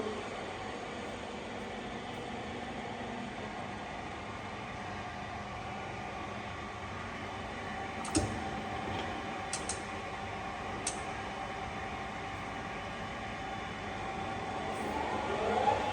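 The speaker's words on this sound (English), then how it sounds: "Working of spindle at 95 RPM." Shenyang CW6280B gap bed lathe spindle turning at 95 RPM, a low steady mechanical hum and drone with a few faint clicks, fairly quiet and continuous.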